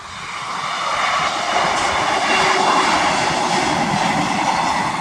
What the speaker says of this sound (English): There's the train now.